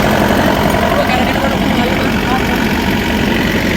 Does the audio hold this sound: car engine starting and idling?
yes